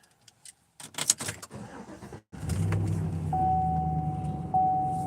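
Keys jangle in a quick cluster as they are pulled from a 2017 pickup truck's ignition, followed by the engine humming and a steady tonal chime close by.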